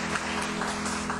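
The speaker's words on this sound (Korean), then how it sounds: "자리에서 한번 따뜻한 사랑의 박수를 보내주시기 바랍니다" Warm applause from a church congregation during a worship service at a Suwon church, a steady low wash of clapping filling the room, moderately distant and even throughout.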